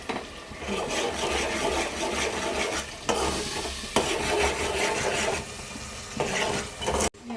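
Onion paste and ginger-garlic paste frying in a pan, stirred steadily with a soft continuous sizzle and scraping throughout, a brief sharp knock near the end.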